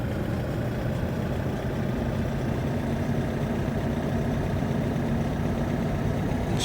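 A car engine from a Unity driving game with the Ezereal car controller, a steady low droning hum at constant level, close and unbroken, with no talking.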